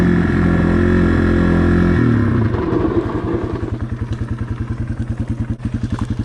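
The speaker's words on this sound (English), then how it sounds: "as soon as I get to the cone, I'm going to hit it rear brake only." A dual-sport motorcycle brakes hard at about 10 mph using only the rear brake; the engine roar cuts abruptly to a loud, rhythmic thumping idle close by.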